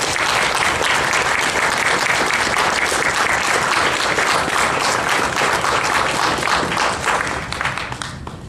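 Loud, sustained audience applause at the 2010 Phi Beta Kappa Science Award ceremony, a dense steady clapping that fades slightly near the end.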